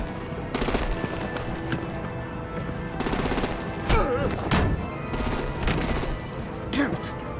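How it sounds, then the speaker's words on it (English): Gunfire and artillery bursts from the Batman: The Enemy Within game in a chaotic combat scene, with rapid shots and loud impacts repeating through the clip over a dense, noisy background. "Break out the artillery and disable their vehicles!"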